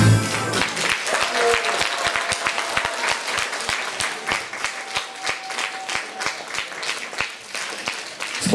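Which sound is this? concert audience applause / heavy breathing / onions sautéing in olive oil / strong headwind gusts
concert audience applause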